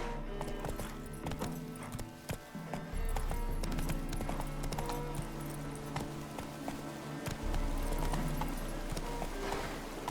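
Roach the horse in The Witcher 3 gallops with fast, rhythmic hoof clip-clops over a low rumble, continuous and close throughout.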